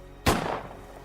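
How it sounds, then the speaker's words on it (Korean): A single gunshot sound effect in a Korean horror radio story about a military guard post, one sharp, loud crack that starts suddenly and trails off in a short echoing decay. "잠시 후 동시에 바로 총소리가 들려왔다"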